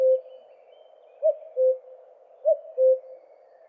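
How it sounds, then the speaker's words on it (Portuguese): Male common cuckoo sings its descending two-note call, repeated three times at a steady spacing, clear and moderately near over a faint background. "uma terceira menor descendente, que é este cucu que o cuco faz"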